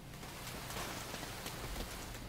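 A steady hiss of rain falls in the video game Uncharted 2: Among Thieves, in a battered city, as an even wash of noise with no voices.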